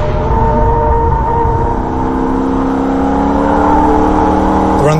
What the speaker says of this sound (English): Aggressively on the brakes to slow the car down. A little bit of a slide on the way in, and again back open on the throttle.